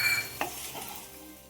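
A spoon stirs a frying curry with curry leaves in a pan, making a brief scrape and a single metallic knock over a soft background sizzle, close and without talking.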